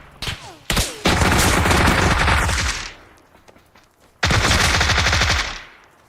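Loud, close MP5 submachine gun fire in the PUBG video game, two sustained automatic bursts of rapid shots separated by a short pause, with a few single cracks at the start.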